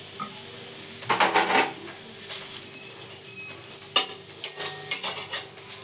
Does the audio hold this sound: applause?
no